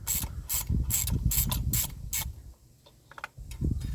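Ratchet wrench with a 10 mm deep well socket working fasteners on a 50 hp Yamaha outboard carburetor, a close, loud series of rhythmic ratcheting strokes, then a brief quieter pause and another stroke.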